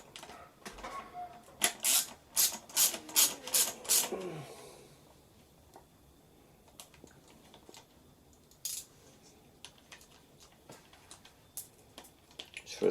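Several quick ratcheting clicks in a close, fast burst as a ratchet loosens the carburettor studs on a petrol strimmer, followed by quieter scattered taps and small handling clicks.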